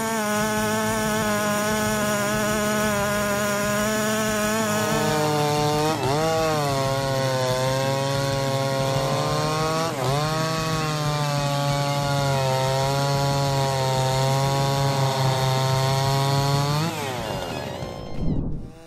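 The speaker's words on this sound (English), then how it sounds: "Let's watch the following final moments to see the amazing power of chainsaws." Chainsaws cut into a tree with a loud, sustained engine roar whose pitch dips and recovers as the chain bites into the wood, then eases off near the end.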